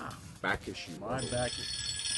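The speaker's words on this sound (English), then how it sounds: "Ooh, crud. That's my phone." A mobile phone ringtone starts partway through and keeps ringing as steady tonal chimes beneath someone talking during a comic book discussion.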